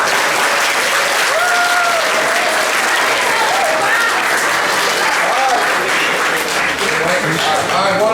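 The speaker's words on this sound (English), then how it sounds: "So, kids, please give them a round of applause." A school crowd at a high school track and field awards ceremony claps for parents in steady, sustained applause with a few cheers and voices mixed in throughout.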